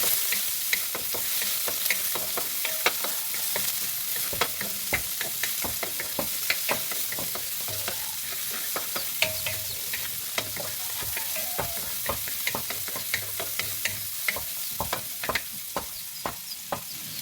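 Meat, garlic and onion sizzle steadily in a hot pan for a Filipino sautéed vegetable dish, with frequent clinks and scrapes of a stirring utensil punctuating the continuous frying hiss throughout.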